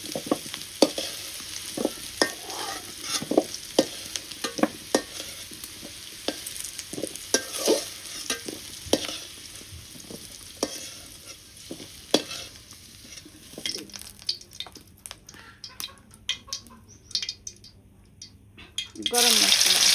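Frying and stirring in a pan while preparing goat meat curry, with repeated sharp scrapes and clinks of the utensil over a steady sizzle, close and fairly loud, plus a brief running-water stretch near the end.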